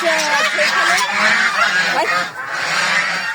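Farm geese honk loudly and repeatedly, close by, in a dense overlapping chorus of harsh calls that runs continuously with only a brief dip near the end.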